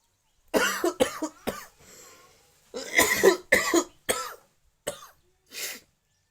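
A person coughs in a string of about nine short, harsh bursts with some throat clearing, close and spaced by brief pauses.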